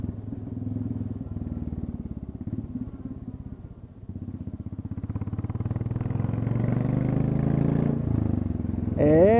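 A Royal Enfield Classic 350 motorcycle running without its exhaust tip thuds along at a steady pulse, then revs and rises in pitch and loudness into a harder roar near the end, heard up close.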